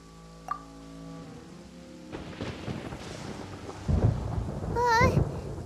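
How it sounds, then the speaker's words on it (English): Thunder rumbling in the Genshin Impact game world, rolling and building with rain and a storm, a sharp tone at the start and a brief chime near the end. "Paimon hears thunder!"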